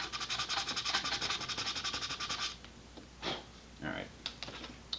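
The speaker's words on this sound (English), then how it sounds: "I'm going to do a little bit of sanding on the underside here" Sandpaper rubs against the underside of an Estes Pro Series Nike Smoke model rocket in quick, rhythmic close strokes for a couple of seconds, then gives way to a few scattered softer scrapes and handling sounds.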